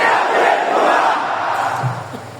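Large crowd at a religious rally shouting slogans together, a dense roaring mass of voices that holds steady throughout and eases slightly toward the end.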